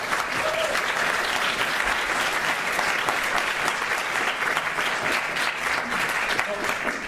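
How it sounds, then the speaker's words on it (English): A conference audience applauds a speaker at a games event on comedy in games, steady dense clapping at full level throughout, no voices over it. "A round of applause"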